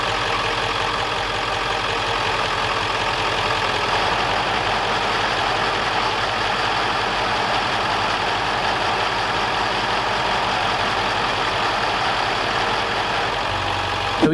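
Diesel four-wheel drive truck engine idling in first gear with the front hubs locked, a steady, loud low rumble running unbroken and close for the whole stretch.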